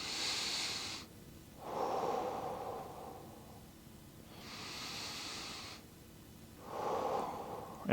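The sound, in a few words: deep breathing into the belly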